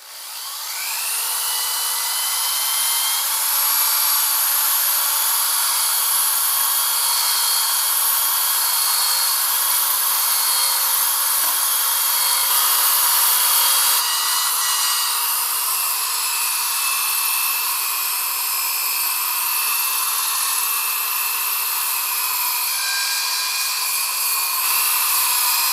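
Drill-driven 3M polishing pad buffing a water-misted cloudy car headlight, a steady high whine with a rough, sustained drone lasting the whole stretch, close and fairly loud, no voices.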